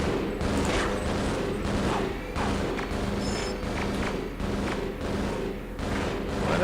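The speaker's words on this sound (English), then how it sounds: "Why are they still shooting?" Video game gunfire rattles in repeated dense bursts, loud and close, each volley trailing into booming thuds, with a brief pause between rounds.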